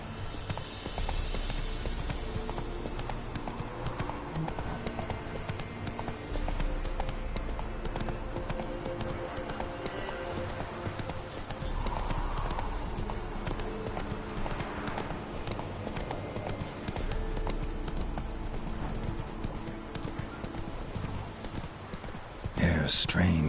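Roach the horse's hooves clip-clop steadily in The Witcher video game, an even walking rhythm at close range throughout, with a voice speaking over it and a brief louder rustle at the end.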